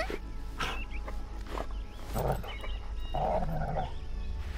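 A dog in the video game Last Day of June, a few close panting huffs and soft whines over a steady ambient game soundscape, with no talk.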